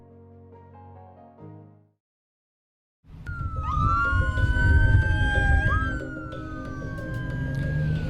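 An ambulance siren wails and sweeps up and down, loud and close, near the Texas–Mexico border crossing. It starts after a short bit of music and a pause.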